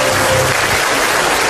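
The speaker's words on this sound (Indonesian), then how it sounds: "Iya, tepuk tangan dong" A crowd at a comedy show claps in a dense, loud burst of applause that fills the whole short moment, with no talking over it.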